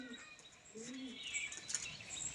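Large closed-tail pigeons, faint soft cooing and a few light chirps at a distance, with a quiet background and no speech.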